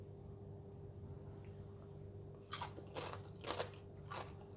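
Crunchy cucumber with Thai peanut sauce being bitten and chewed up close: after a quiet stretch, four crisp crunches in quick succession over a faint steady hum, no speech.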